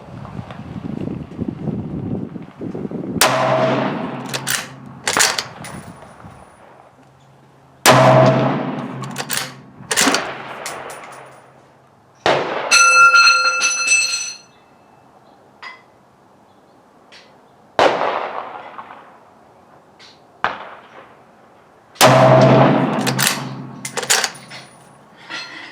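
Several rifle shots from a Ruger American Ranch in 7.62x39 firing Belom 123 gr ammunition at a range, each a sharp loud crack with a short decaying tail, spaced a few seconds apart in an uneven rhythm.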